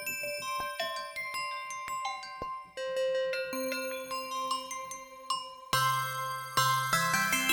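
Synthesizer bell patches play a shifting sequence of struck, ringing tones, generated by NoteMate and layered with sustained bell notes, chiming clearly with long decays, and no talk.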